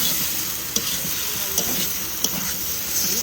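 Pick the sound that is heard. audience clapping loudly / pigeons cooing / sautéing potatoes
sautéing potatoes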